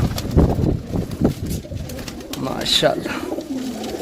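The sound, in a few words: pigeons cooing at a pigeon market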